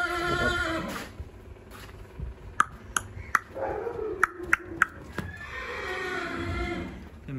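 Horses neigh, with a loud whinny at the start and end, separated by sharp metallic pings and light knocks.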